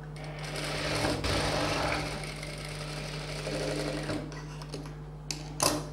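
A sewing machine stitches a boat neck blouse, its motor humming steadily under a fast rattling needle run that stops and starts in short bursts, close up with faint background noise.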